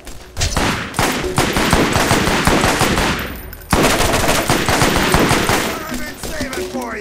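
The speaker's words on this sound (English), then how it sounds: "I hear shooting." Loud, sustained rapid gunfire from the video game Borderlands, dense automatic bursts running almost without pause, briefly breaking and then resuming with renewed intensity.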